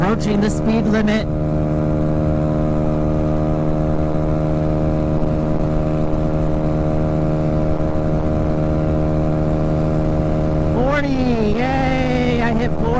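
A Honda Ruckus scooter hums along under way with a steady, buzzing engine and exhaust drone held at constant pitch, while a rider talks over it at the start and near the end.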